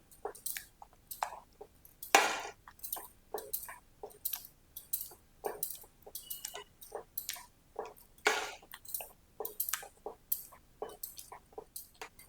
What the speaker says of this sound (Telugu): ఉప్పు వేసి మొత్తం ఈ పప్పునంతా ఇలా మ్యాష్ చేసుకోండి